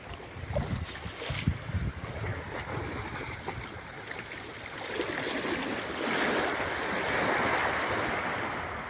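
A small boat moving on open water off Caramoran, Catanduanes, with continuous splashing and rushing water that builds louder toward the end and no voices.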